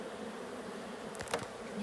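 Honey bees drone in a beehive named Ostia, a steady soft buzz close by with a brief louder flurry near the end.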